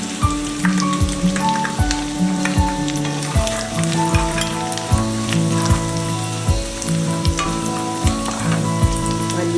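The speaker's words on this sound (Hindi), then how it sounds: "ये हींग और सूखी मिर्च भी डाल देते हैं" Asafoetida and dried red chilies sizzle and crackle in hot oil in a pan while vermicelli upma is being made. The frying noise is continuous and close, over a faint, rhythmic tonal background.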